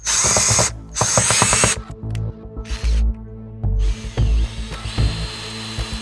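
A power drill fitted with a hole saw runs in loud bursts that start and stop repeatedly, with grinding, stuttering cutting and brief pauses between pulls of the trigger.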